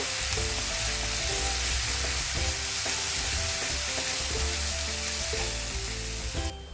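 Ginger garlic paste frying in hot oil for a Bengali puti fish curry, a loud, dense, continuous sizzle with rhythmic scraping and stirring strokes throughout, close by.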